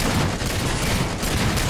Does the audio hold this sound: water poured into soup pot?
no